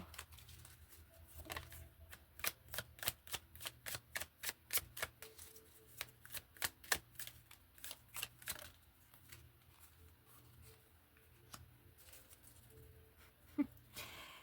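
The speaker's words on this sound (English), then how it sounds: "I just want to pull a couple of these. Just a couple. And then I'm going to pull some tarot." Tarot cards are shuffled by hand in a quiet room, a rapid series of soft riffling taps and flicks that comes in an even rhythm and then thins out into scattered card slaps.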